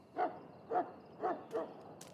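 An ill dog in the video game Dragon Age Origins gives four evenly spaced whimpering yelps about half a second apart, close and fairly soft, with a faint final squeak.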